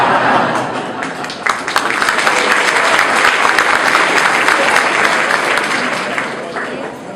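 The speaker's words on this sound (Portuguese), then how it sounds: "Quando aplaudem muito, eu ameaço." An audience at a conference breaks into sustained, dense applause, loud and even throughout, with a faint voice underneath.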